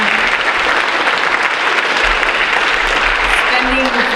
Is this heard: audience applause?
yes